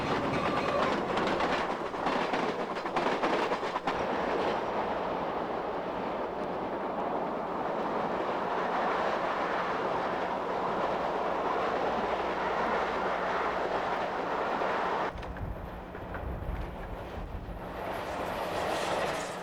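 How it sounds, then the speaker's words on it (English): A train runs steadily along the rails, a loud continuous rumble with rhythmic clacking and rushing wind noise throughout. "Trains are a means of transporting people between cities."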